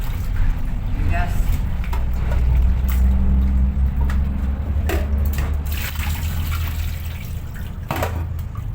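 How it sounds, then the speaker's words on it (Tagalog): Rice is washed by hand in water, with continuous sloshing and swirling close by, occasional clinks and drips, and talking running over it. "matagal talaga ako guys maghugas ng bigas"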